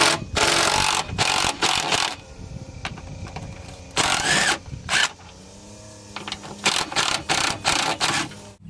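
Bolts being undone on the transmission of a 1989 Jeep Cherokee with a 4.0L inline-six, using a ratcheting tool: loud bursts of rapid mechanical clicking and whirring, repeated several times with short pauses between, close by.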